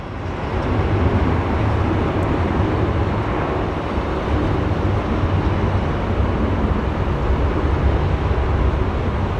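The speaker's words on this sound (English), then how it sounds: "You can hear those engines powered up." Jet engines of a Honeywell test aircraft powered up at Sky Harbor International Airport, a loud, continuous broadband roar that holds steady throughout without talk.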